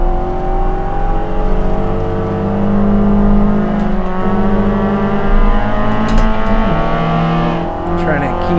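Mazda Miata race car engine at Harris Hill in a VR racing game, a loud, continuous drone whose pitch rises and falls as the car shifts and accelerates, with speech over it.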